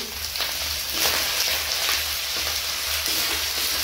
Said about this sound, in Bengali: আদা বাটা ভাজা হয়ে গেছে, এরপর আমি রসুন বাটাটা দিয়ে দিচ্ছি।